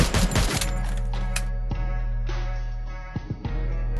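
Gunfire in a video game, a rapid burst of overlapping shots at the start followed by a few sharp isolated reports over a steady low game hum, with no talking.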